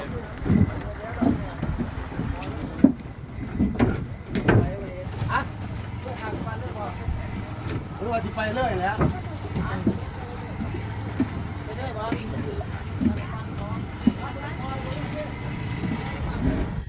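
A tourist boat pulls away on a river in southern Laos near Don Det, its steady engine and water rumble running throughout under ongoing chatter and wind buffeting the microphone.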